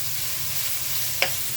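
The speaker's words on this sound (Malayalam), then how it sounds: "ഗ്രീൻ പീസ്, പച്ച, ഇതെല്ലാം ഇട്ടൊന്ന് ഇളക്കുക" Green peas and other vegetables stir-fried in a pan for chicken spring roll filling give a steady low sizzle with a single brief scrape of the spoon partway through, close and without voices.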